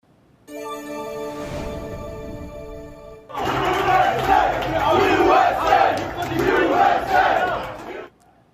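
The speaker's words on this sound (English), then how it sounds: "a huge crowd of support showing up for the U.S. men's national soccer team as they play in their first match of the 2026 FIFA World Cup" Huge crowd of supporters cheering for the U.S. men's national soccer team at its first 2026 FIFA World Cup match, a sustained roaring chant that swells and surges, preceded by a sharp tonal horn-like blast.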